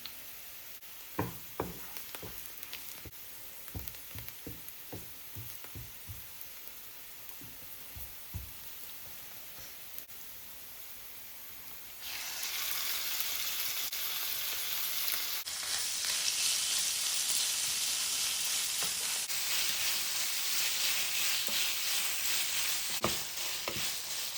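Chopped onions frying in a pan, browning toward medium brown: a light crackling sizzle with a few scattered taps early on, then a louder, steady hiss swelling up and holding to the end, with no talking.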